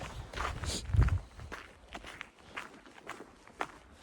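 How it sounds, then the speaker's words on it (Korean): Footsteps on a quiet lakeside path around Yeongnangho lake in Sokcho in winter, a close, steady rhythm of crunching steps with no other sounds around. "진짜 내 발자국 소리밖에 안 난다."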